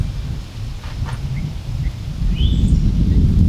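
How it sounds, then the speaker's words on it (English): Fierce wind buffets the microphone at an outdoor shooting range, a loud continuous low roar that swells stronger toward the end, with faint rustling above it. "Got a fierce wind at my face."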